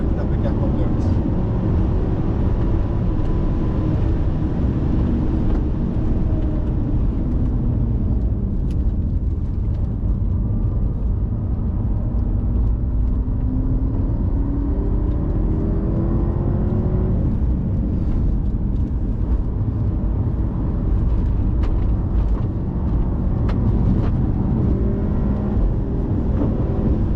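Inside a 2016 BMW M5 F10 under hard acceleration, a deep engine drone rises in long sweeps over constant road rumble for nearly half a minute, with occasional voices faintly present.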